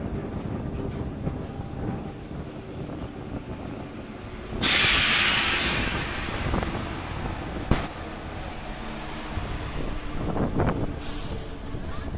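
Riding on board the morning Medinipur local train, the carriage rattles and rumbles steadily with clickety-clack wheel noise. Two sharp bursts of air-brake hiss break through, one long and one short.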